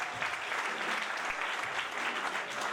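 A church congregation at a united evangelical service applauds in a steady, dense wash of many hands. The clapping is fairly soft and slightly distant and holds evenly throughout, with faint voices underneath.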